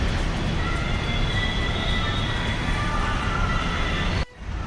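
A steady, loud rumbling roar of a metro train running through Knowledge Park 2 metro station, with faint high tones, cutting off abruptly near the end.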